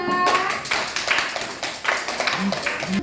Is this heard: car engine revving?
no